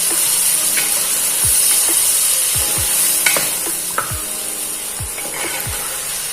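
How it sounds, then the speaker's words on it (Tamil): Continuous hot-oil frying hiss from a pan of dried fish curry with drumstick and turmeric, with a series of scraping stirs roughly every half second, close and steady with no talking. "இந்த மாதிரி நல்லா எண்ணெயில நல்லா ஒரு வாட்டி வதக்கி விட்டுக்கலாம்"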